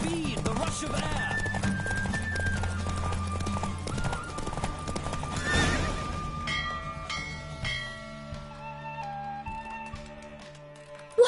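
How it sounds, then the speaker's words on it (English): Rhythmic hoofbeats of a galloping horse in the video game The Witcher 3: Wild Hunt, over music and ringing tones, fading into a sparser, quieter passage toward the end. "Don't spare the horse."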